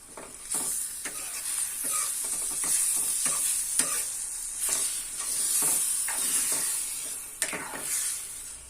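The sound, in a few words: stirring tomato egg curry in a pan with a spoon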